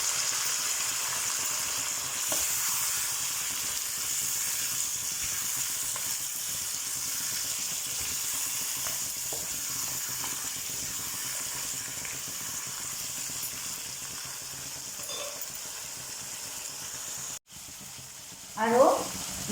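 Mutton pieces fry in a hot kadai for an Assamese-style mutton curry, giving a steady, moderate sizzle and hiss that drops suddenly near the end, followed by a brief stirring clatter.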